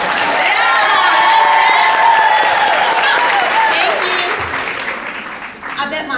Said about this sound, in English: Would everybody stand up and applaud? Just stand up and applaud as loud as you possibly can.